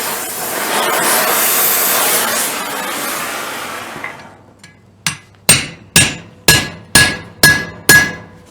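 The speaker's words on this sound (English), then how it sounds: "We will reheat and set the rivet with the rivet set." A hot rivet is struck with a rivet set: after a few seconds of loud roaring hiss from the heating fire, eight sharp, ringing hammer blows land at a steady one-per-half-second pace, close and loud.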